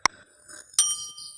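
A bicycle-style bell sound effect for a subscribe button rings twice, a sharp quick ding followed by a brighter ring that lingers and fades, clear and alone.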